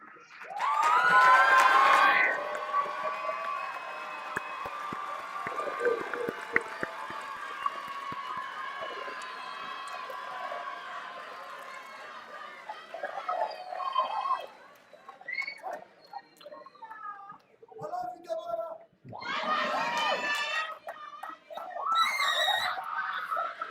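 A large crowd cheers and shouts at Maya High School's 2023 graduation ceremony, opening with a loud burst of whoops and screams that fades into sustained applause and chatter, with renewed shouting near the end.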